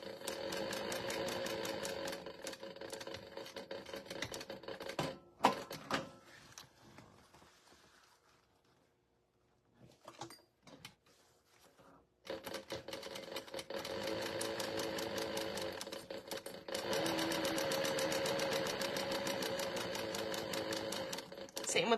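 A sewing machine stitches a cosmetic case in fast rhythmic runs of needle clatter. A quiet pause in the middle holds a few faint clicks while the work is pivoted, then the stitching resumes loud and steady to the end.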